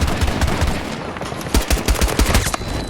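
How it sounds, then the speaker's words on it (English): Rapid pistol gunfire in Battlefield 2042 cracks out in fast, punchy bursts, loud and close, with brief gaps between volleys over a busy battlefield bed. "Get a long-range kill with the pistol."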